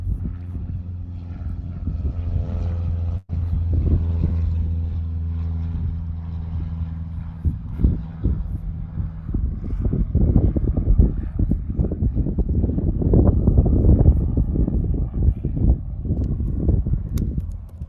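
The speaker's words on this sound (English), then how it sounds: "And that aircraft on the right, another Metroliner" A Metroliner turboprop at Denton Enterprise Airport hums with a steady low engine drone, then swells into a louder, rougher roar as the engines power up, close and continuous.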